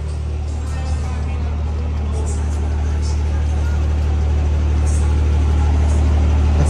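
Truck engine running in a deep, steady low rumble that swells slightly louder toward the end, close by, with no one speaking.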